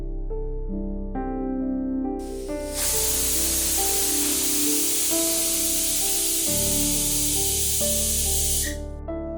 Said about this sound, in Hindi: कुकर की 2 सीटी हो गई है